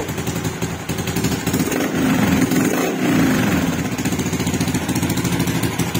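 A Raider J115 Fi motorcycle engine runs loud and close throughout, holding a steady throb with a swell in revs around the middle before settling back, with no voices present.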